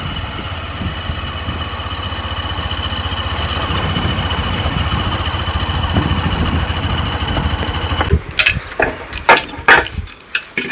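A motorcycle engine idles steadily for several seconds with a close, even putter, then gives way to bursts of clattering and irregular mechanical knocks near the end.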